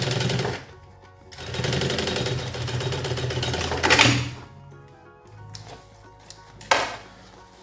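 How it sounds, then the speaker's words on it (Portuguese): A sewing machine topstitches a fabric lunch bag in several bursts of rapid, close mechanical whirring, separated by short pauses and a few louder clunks. "Vou encaixar ele aqui na minha máquina, no pezinho, e vou fazer um press-ponto aqui também."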